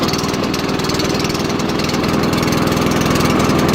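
A small gasoline lawn mower engine, revived after being dead and started by a cord wrapped around a wheel, runs steadily and loudly up close with a dense, even mechanical chatter that holds throughout, then cuts off abruptly at the end.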